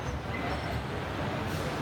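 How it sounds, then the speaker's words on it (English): Trains roll through a railway station with a steady, dense rumble and rail noise, fairly loud and continuous with no voices over it. "looking at the trains here"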